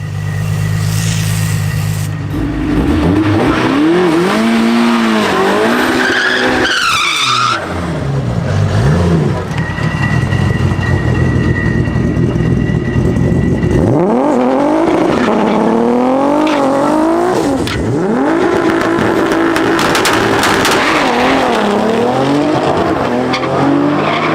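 Loud race engines from a 1,000 hp Hellcat-swapped Dodge Viper and a Supra at a drag strip, roaring and revving hard with repeated climbing gear pulls, a sharp launch burst and tire squeal, continuous and close throughout.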